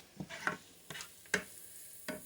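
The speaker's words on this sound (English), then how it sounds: "And my onions, I guess they're caramelizing." Onions caramelizing in a pan, sounding as a few soft scrapes and stirs with a faint sizzle underneath, spaced irregularly and heard close with no talking.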